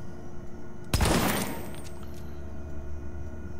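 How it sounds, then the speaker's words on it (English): Sniper rifle shot in a video game: a sharp loud crack followed by a rumbling explosion that decays over about a second, with faint game ambience around it. "You're getting the shot and you're getting the explosion."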